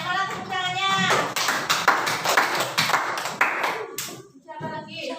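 Young schoolchildren in an elementary classroom break into a burst of group clapping lasting a few seconds, loud and close, with a teacher's voice speaking just before and after.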